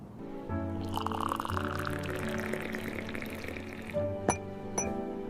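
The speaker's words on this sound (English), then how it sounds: "I pour myself a cup of coffee." Coffee pours into a cup in a steady gurgling stream lasting several seconds, ending with two small clinks, close and fairly quiet against a low background hum.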